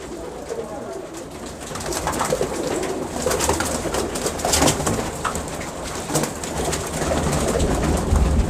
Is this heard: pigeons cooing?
yes